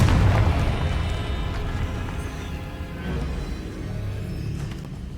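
A Confringo blasting curse from the Hogwarts Legacy video game goes off as a deep booming explosion that rumbles loudly at the start and slowly fades into a low, lingering roar.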